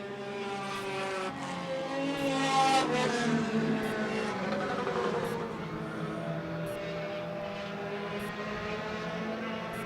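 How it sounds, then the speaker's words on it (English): Taxi-style race cars roar around an oval track, a steady, layered engine drone that swells to a peak and then eases as the cars pass, with no talk. "Hunter Dodge also looking to get around that 1 car, jump up into 2nd place"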